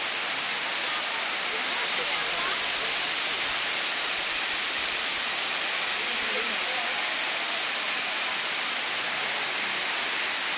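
Ko Luang waterfall pours steadily, a dense even rush of falling water heard close and loud with no break.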